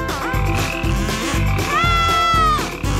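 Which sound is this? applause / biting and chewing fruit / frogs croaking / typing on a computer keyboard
frogs croaking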